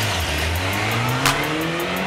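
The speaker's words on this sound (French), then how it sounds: "Ils viennent de partir en moto là." A motor vehicle pulls away with a rising engine whine, climbing in pitch as it accelerates, loud and close, with a brief sharp burst partway through.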